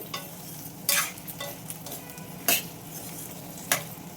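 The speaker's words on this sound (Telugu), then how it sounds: "ఒకసారి ఇప్పుడు జాయిగా కలుపుదాం" Amla pickle being stirred in a pan: sizzling oil under a spoon scraping the pan, with a few sharp clinks of metal against the rim.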